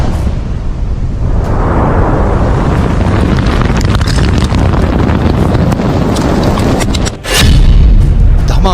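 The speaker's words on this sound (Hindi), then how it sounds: "एक के बाद एक 3 मिसाइलें टारगेट पर छोड़ी जाती हैं" A loud, rushing roar of an incoming missile builds steadily, then a sudden heavy missile explosion hits near the end, harsh and distorted.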